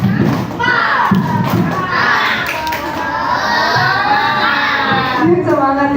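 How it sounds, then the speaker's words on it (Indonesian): A class of sixth-grade children does a spirit clapping chant. Their hands thump under loud, overlapping young voices that chant and shout continuously. "Yuk, tepuk semangat dulu yuk."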